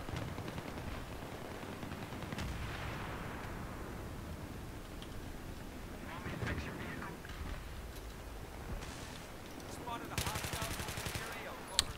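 Battlefield 3 Conquest match on the Markaz Monolith map: rapid bursts of automatic gunfire crackle repeatedly through the game's ambient noise, fairly quiet overall, with a few sharper shots near the end.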